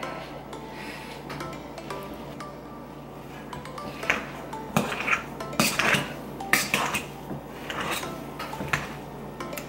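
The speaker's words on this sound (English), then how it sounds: "I'm then gonna add my imperial cheese and start to mix it up, break it up." Mashed potatoes and cheese are stirred together for a pierogi filling, with a spoon scraping and clinking against a bowl in irregular bursts that grow busier over the second half.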